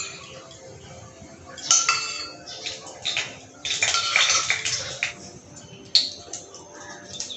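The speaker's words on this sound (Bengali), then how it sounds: "প্রথমে আমি দিয়ে দিচ্ছি সরষের তেল।" Mustard oil hits a hot kadai during a date chutney, giving a hissing sizzle that swells in uneven bursts with light metal clanks, loud and close.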